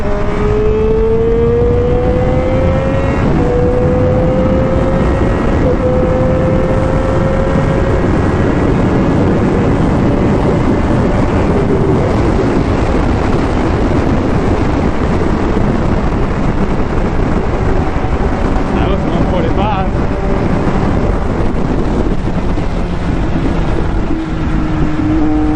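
A Triumph Daytona 765 Moto2 Edition motorcycle at top speed, its engine a steady loud high-pitched roar with rising tone through gear changes, heavy wind rush throughout, no talk.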